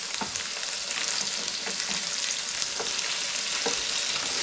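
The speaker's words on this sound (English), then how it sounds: "we've still got some tofu here frying away." Tofu sizzles steadily in a hot pan, a constant crackling hiss with occasional soft stirring scrapes, close and alone.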